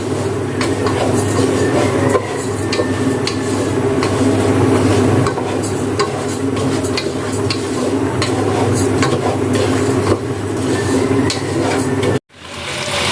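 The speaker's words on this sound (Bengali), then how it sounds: "এখানে আমি পোলাও চাল ভাজা শুরু করে দিয়েছি" Polao rice is dry-fried in a pan, giving a loud, steady rushing sizzle with a rumbling stir that runs unbroken, then cuts out abruptly near the end.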